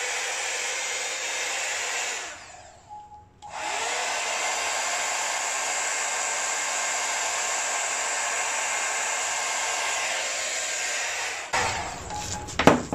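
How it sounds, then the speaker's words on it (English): Hair dryer blowing steadily onto an acrylic paint pour, a loud continuous whoosh that cuts out briefly for about a second before resuming and stopping near the end, with faint handling noise afterward. "I'm going to get the hairdryer out and I'm going to blow it straight in the middle."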